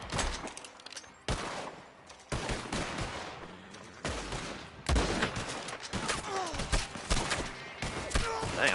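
Repeated gunshots ring out at enemies at a roadblock in the video game Red Dead Online. Several loud, sharp blasts and bursts are spread across the clip with no talking.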